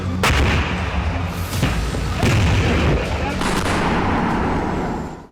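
Heavy artillery shelling at the India–Pakistan border in Kashmir booms repeatedly and loudly, with sharp blasts rolling into a continuous rumble and a clatter of gunfire, and a voice faintly mixed in.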